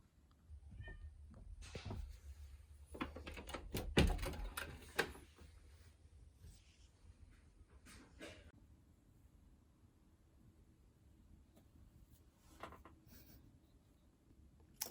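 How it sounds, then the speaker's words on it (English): A cat meows a few times outside a closed door, muffled and somewhat distant, amid quiet room noises and soft clicks. "my cat is outside my door because he wants to get in"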